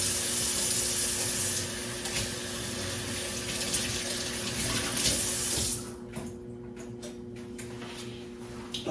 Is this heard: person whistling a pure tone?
no